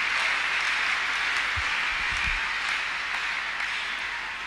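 A church congregation claps together during a deliverance service, a dense, steady wash of many hands that holds even for several seconds, with no voices over it.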